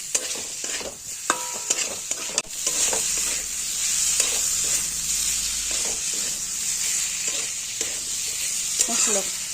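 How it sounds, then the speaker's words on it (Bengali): Cauliflower stirred and frying with spices in a pan for a Bengali katla fish curry with potatoes, a steady close sizzle with repeated scraping stir strokes and clinks throughout. "ফুলকপিটা দিয়ে কিছুক্ষণ নাড়াচাড়া করে দিয়ে দেবো তারপরে জল"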